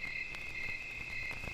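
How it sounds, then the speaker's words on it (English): A steady chorus of crickets chirps by a bayou swamp in the evening, a continuous high trill with a few soft low thumps beneath, no voices. "The evening settles in with a chorus of crickets and the occasional splash from the nearby swamp."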